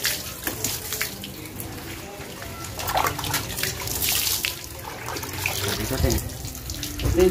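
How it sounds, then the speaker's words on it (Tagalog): Water splashing and pouring over a muddy motorcycle during a wash, an uneven running gush with bursts of heavier splashing, close by and continuous. "Buhusan nyo muna ng tubig yung mga putik-putik"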